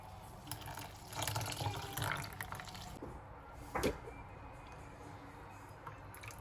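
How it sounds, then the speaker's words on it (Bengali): Water poured into a bowl of rice batter for milk chitoi pitha, a soft running trickle with faint drips, briefly louder near the middle, against quiet kitchen background. "এখন আমি এখানে আরেকটু পানি লাগবে, পানি অ্যাড করব।"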